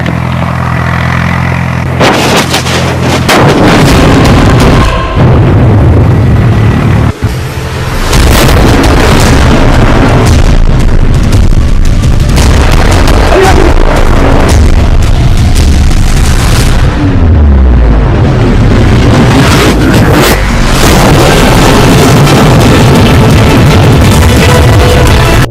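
Homemade firecracker bomb set off outdoors, a loud blast followed by repeated heavy booms and crackling bursts rolling on for many seconds at very high volume.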